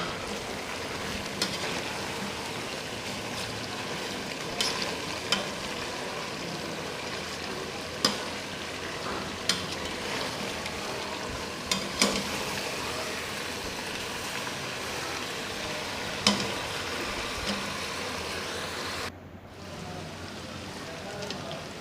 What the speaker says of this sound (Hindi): प्रेशर कुकर में कुकिंग ऑयल डाला है और हम गोश्त को फ्राई करेंगे